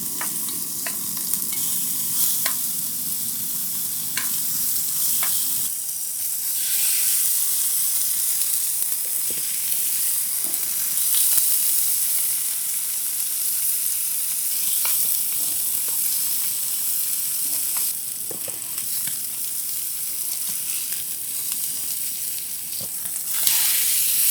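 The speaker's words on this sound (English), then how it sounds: "That's sizzling nicely." Food sizzles loudly and steadily in a hot pan at a boggy campsite, a constant frying hiss broken by occasional scrapes and clicks of stirring.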